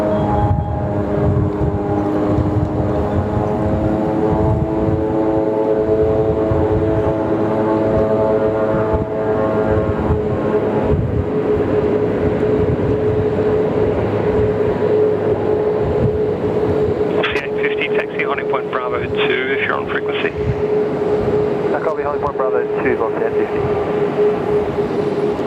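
Jet aircraft taking off at Sydney Airport, heard from nearby as a loud sustained roar with a shifting engine whine that builds and changes pitch over the whole stretch, while an air traffic control radio voice talks over it.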